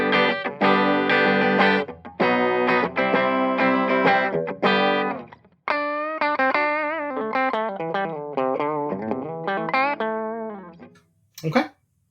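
A clean electric guitar plays strummed chords and then a melodic lead line, notes ringing out with a wash of reverb and brief pauses.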